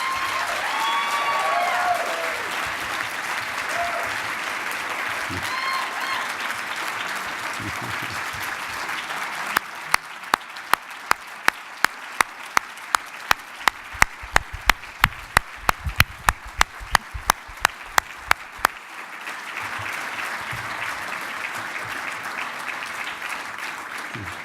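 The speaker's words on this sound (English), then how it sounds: "you beat me to the applause there" Applause from an awards ceremony audience fills the room, broad clapping that swells and fades, with a stretch of sharp individual claps in the middle.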